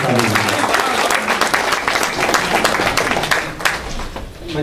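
Audience applause at a Hindi comic and satirical poetry recital, a loud, dense wash of clapping from a full crowd sustained throughout, near and steady with slight swells.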